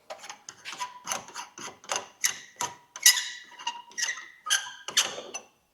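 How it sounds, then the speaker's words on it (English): A go-kart brake reservoir pump whirs and clicks in a quick series of about a dozen short, rhythmic mechanical bursts while the brake system is being bled, close and fairly loud, with no talking. "I love this brake reservoir, but I hate it because it sounds so terrible"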